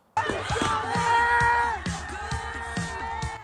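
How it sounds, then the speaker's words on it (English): Crowd of moviegoers at a Friday night Minecraft movie screening yelling at the top of their lungs, loud and close, with rhythmic stomping or clapping thuds running steadily beneath the shouting. "Moviegoers during a Minecraft movie Friday night yelling at the top of their lungs"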